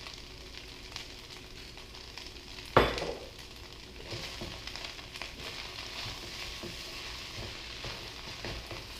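Chicken fried rice with soy sauce sizzles and is stirred in a pan, a steady close frying hiss with scraping and tossing, one sharp clatter near the start and no talking.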